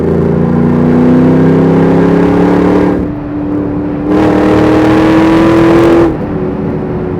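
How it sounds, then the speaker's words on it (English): A Land Rover Defender 110 with a swapped LS3 V8 revs hard in two long climbing pulls, with a brief drop in between, loud and close with a deep throaty roar and no talk. "And this is what's addictive about owning one of these LS3s, is this noise."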